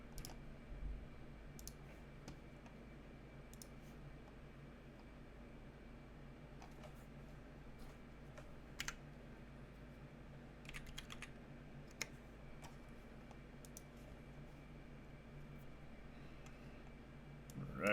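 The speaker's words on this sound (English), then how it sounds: "quick little typing demo" Someone runs a typing test on a freshly built custom mechanical keyboard. The keystrokes come as faint, sparse clicks spread over a steady low hum, quiet and unhurried, with no talking.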